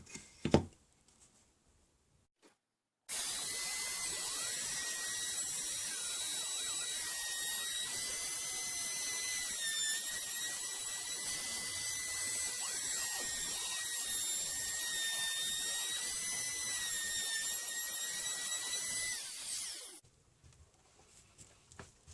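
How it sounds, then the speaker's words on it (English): A handheld router fitted with a round-over bit rounds the edges and holes of a scrap-wood push stick, a loud steady high-pitched whine running about seventeen seconds after a quiet start, then cutting off abruptly. "I'm going to use the router with a round over bit to round off the handle area and the holes"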